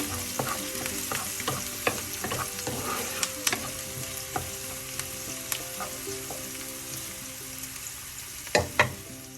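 Green chillies and chopped onion sautéing in a pan for a snow peas stir-fry, a steady near sizzle with frequent scraping stirs and spoon taps, and two louder clacks near the end, with no talking.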